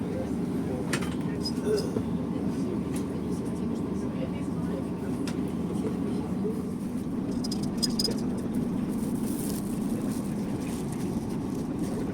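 A night train stands at Chiang Mai railway station, giving a continuous low rumble and hum with faint metallic clicks and rattles, steady and fairly close throughout.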